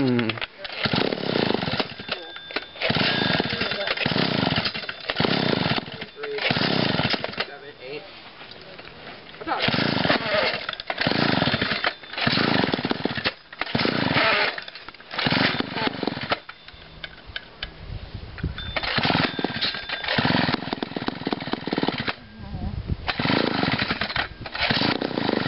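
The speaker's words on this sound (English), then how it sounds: "Where'd this chainsaw come from?" A 1970s McCulloch chainsaw, started after sitting in a barn, runs loud and close, its engine surging and dropping in repeated revving bursts with brief idling dips between them, and no talk over it.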